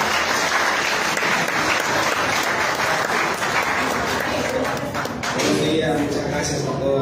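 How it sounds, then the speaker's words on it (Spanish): An audience at a church preaching event applauds, a dense, loud wash of clapping that runs steadily and then begins to thin out toward the end. "Así que un aplauso"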